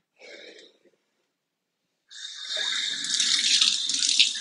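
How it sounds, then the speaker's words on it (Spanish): Tap water runs into a tub or basin to heat up for a bath, a short splash first, then a pause, then a steady, loud, hissing flow that builds toward the end. "Primero vamos a calentar el agua, porque el agua aquí es muy fría"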